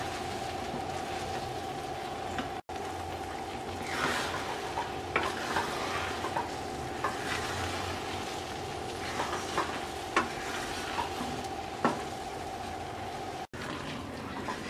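Green and ripe jujube pickle cooks down in a pan, a steady soft sizzle with repeated scraping stir strokes at close range, continuing without any talk.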